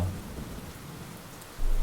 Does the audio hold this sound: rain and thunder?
yes